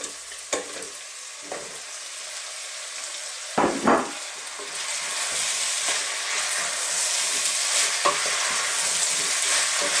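Sliced garlic and potatoes frying in a pot for a vegetable stew, with a few separate clanks and scrapes of stirring at first, then a loud, steady sizzle that builds and fills the rest, with no talk.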